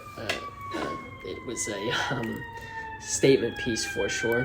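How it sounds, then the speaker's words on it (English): Emergency vehicle sirens wail faintly in the background, a steady sustained tone running beneath someone speaking close to the microphone. "I apologize if you hear the sirens in the background"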